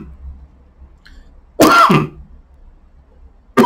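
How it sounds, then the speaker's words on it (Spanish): A single harsh cough and throat clearing from an adult with lingering COVID after-effects, loud and close in an otherwise quiet room, with the start of another cough at the end. "Perdón, es una de las secuelas del COVID esta."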